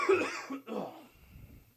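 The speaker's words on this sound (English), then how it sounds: "I start fucking coughing." A couple of short, harsh coughs close to the mic, followed by quiet breathing and a faint click.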